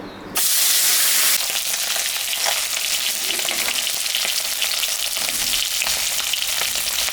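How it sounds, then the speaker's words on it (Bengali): Fish pieces, salted and coated in turmeric, hit hot mustard oil in a wok and set off a loud, steady sizzle that bursts in suddenly and keeps crackling close by without a break. "তেল গরম হয়ে গেছে আমি এখন মাছটা ভাজব"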